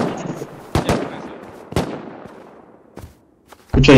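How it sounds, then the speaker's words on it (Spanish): Sharp gunshots from the video game Rust crack out singly and in quick pairs, fairly close, with quiet gaps between them and a louder burst at the end. "Escuché disparos"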